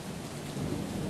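Steady rain and a low rolling thunder rumble fill a brief storm ambience in the stealth video game Thief, loud and continuous with no voices.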